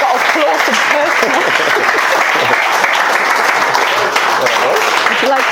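In-person audience applauding the Community Impact Award winners, 21 Degrees Digital, at Bill's Big Bash 2022: dense, steady applause filling the whole stretch at full loudness, with crowd voices mixed in.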